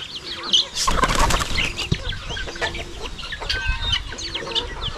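Farmyard chickens, roosters among them, cluck in repeated short calls alongside crowing and bursts of wing flapping, fairly close and steady over a low background murmur.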